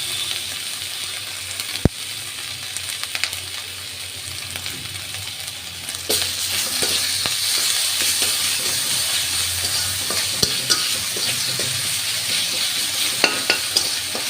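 Spice paste of garlic, ginger and salt fries in a pan with a steady, close sizzle, punctuated by occasional clanks and scrapes of a stirring spoon, growing louder and hissier partway through.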